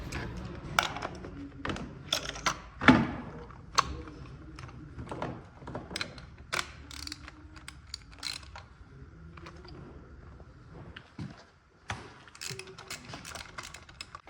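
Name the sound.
ratchet with 9/16 deep socket loosening spark plug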